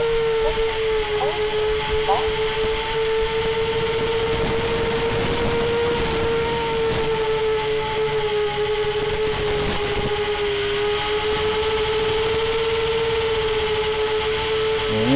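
A 6-inch Mark 4 FPV drone flies faster overhead, its propellers giving a steady, loud high-pitched whine with a shifting hiss that holds throughout.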